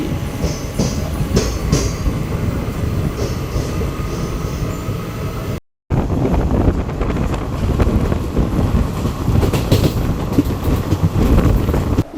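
Special train 07219 on its inaugural Narasapuram to Arunachalam run crossing the Penna river, a loud continuous rumble and clatter of wheels with heavy wind buffeting the microphone, broken by a brief dropout midway.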